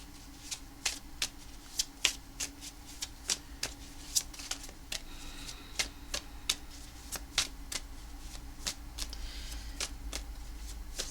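Tarot cards shuffled by hand in a quiet room, a string of soft, crisp snaps and riffles at an uneven rhythm, close and faint with no talking.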